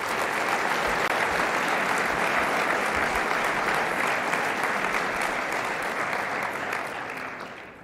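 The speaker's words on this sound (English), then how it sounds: "Let's give them a round of applause for helping us." Sustained applause from a large audience at the opening session of a track and field coaches' convention, a dense steady wash of clapping for about eight seconds that thins and fades at the end.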